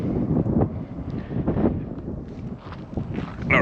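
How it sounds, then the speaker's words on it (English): Strong wind buffeting the microphone on an exposed hilltop knob during a hike at El Cariso Park in Sylmar, a loud continuous rushing roar with gusty swells and no talking. "It got a lot more windy up here."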